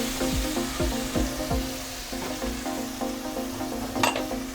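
Tamarind and crushed-chili masala fry in a pan for achari baingan, a soft steady sizzle broken by regular light clinks of a spoon against the pan, close and moderately quiet.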